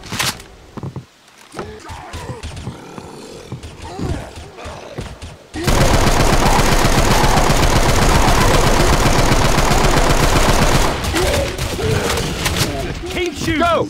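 Gunfire from the video game Left 4 Dead 2 is aimed at the Tank. Scattered shots and game noise build into a loud, sustained burst of rapid automatic fire that runs for several seconds, with voices shouting over it.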